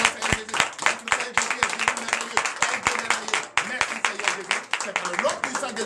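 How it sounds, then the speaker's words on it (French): A church congregation claps in rhythm during a morning prayer service in Benin, steady repeated hand claps with cheering voices mixed in, fairly loud and continuous over background music. "Donnez de vive acclamation à notre Seigneur Jésus"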